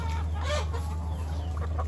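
A mixed farmyard flock of chickens and village roosters clucks in a short burst of overlapping calls, close and moderately loud over a steady low background hum.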